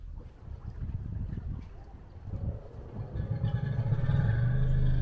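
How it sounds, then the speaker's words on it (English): A boat engine fitted with a new muffler runs steadily on the Clarence River, a low rumbling drone that builds and grows louder and more tonal toward the end. "Well, it's time to test out the new muffler."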